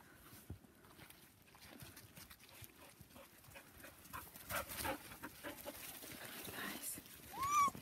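Puppies pant and shuffle about up close, with soft rapid breathing, small scuffling movements and a brief whimper near the end, fairly quiet overall.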